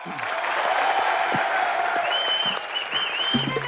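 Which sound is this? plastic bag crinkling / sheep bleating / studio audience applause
studio audience applause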